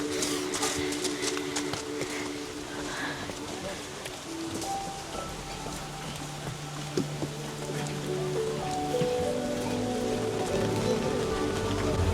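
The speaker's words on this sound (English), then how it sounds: "it's pouring down rain" Heavy rain pours down steadily outdoors before a boat trip to an island, a dense continuous hiss with scattered drops and patter throughout, while faint voices and other background sounds blend underneath.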